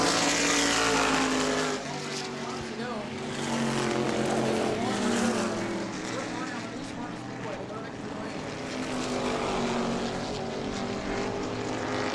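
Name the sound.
race cars racing around the track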